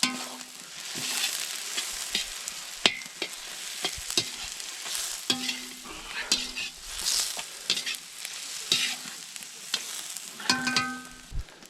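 Onion fries in a cauldron with a continuous sizzle, broken by repeated scraping and clanking stirs of a utensil against the metal, close and lively.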